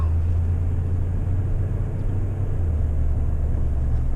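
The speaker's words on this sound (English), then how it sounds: "We're going to lock it into 4-wheel drive." Four-wheel-drive vehicle on new, differently weighted wheels, moving slowly in low range, gives a steady, loud, low engine rumble throughout with no change in pitch.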